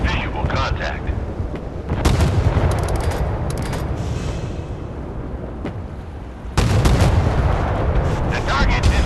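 Naval guns in the warship game Force of Warships boom repeatedly, loud heavy artillery blasts and rumbling impacts in dense bursts, with a voice talking among them.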